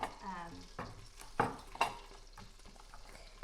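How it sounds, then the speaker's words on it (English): Butter browning in an Instant Pot while making creamy tomato basil soup, with a faint steady sizzle broken by a few sharp pops and light stirring clatter, close and quiet. "our butter is browning, yes. And it's even kind of popping a little bit here."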